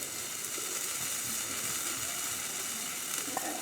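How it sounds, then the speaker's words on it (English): Flour-dusted large shrimp sizzle steadily in an already heated pan, a dense, even frying hiss with no voices over it. "Now I will quickly put these in the pan that's already heated"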